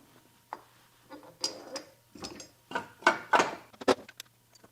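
Ratchet tightening an ARP wheel stud nut onto the hub of a 2014 Subaru WRX track car, heard as short bursts of clicking strokes that grow louder and denser toward the end, close by and alone.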